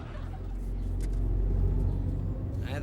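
Car making a left turn on a road, a low, steady engine and road rumble that swells slightly midway, heard from inside the car with faint background noise.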